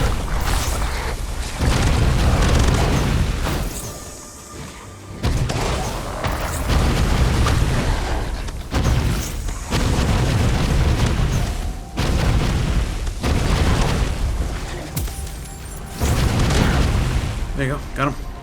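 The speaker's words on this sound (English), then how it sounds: "Oh, they explode." Enemies exploding in the video game Voidling Bound, heavy booming blasts that come in repeated loud waves amid dense game sound, with a player talking over them.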